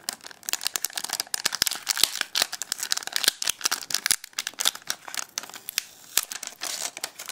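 Taped PSP Go packaging is ripped and crinkled open up close, with a dense run of sharp tearing and crackling bursts and brief pauses.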